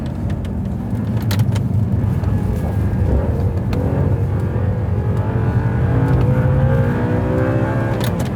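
A racing motorcycle engine held hard against its rev limiter: a loud, continuous, buzzing drone with slight wavering in pitch, steady and close for the whole stretch, with no voices.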